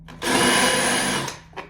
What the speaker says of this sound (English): Take a drill. Find your hole.